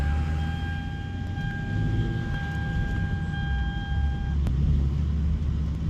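A steady high-pitched whine from a noisy power steering pump rides over the low rumble of a car driving, holding a constant tone for several seconds before fading out.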